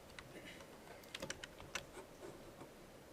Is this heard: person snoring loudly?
no